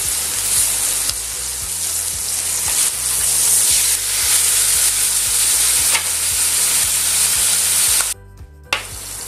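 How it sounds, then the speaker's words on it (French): Onglet beef steak sears in brown butter in a pan, a loud, continuous close sizzle with spattering crackles that cuts out near the end before a brief return. "Et on met l'onglet. Donc vous le laissez cuire tranquillement."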